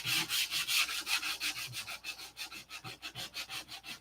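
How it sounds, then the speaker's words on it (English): Primer being sanded off a canopy mold by hand, with steady back-and-forth rasping strokes that start slow and broad and then quicken into shorter, rhythmic rubs, close and fairly quiet. "I have to sand all this primer off, the whole thing."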